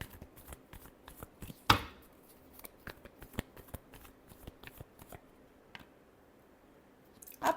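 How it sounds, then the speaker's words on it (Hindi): Tarot cards being shuffled by hand make quiet, crisp flicks and soft slaps in an irregular rhythm, with one sharper snap early on. Close and fairly faint, with no voices. "Last shuffle."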